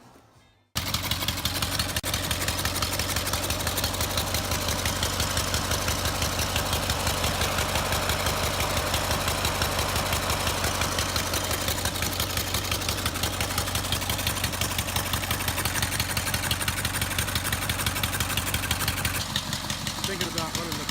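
A car engine idles steadily and close by after a brief start, with a continuous rumbling pulse that runs unbroken throughout the clip.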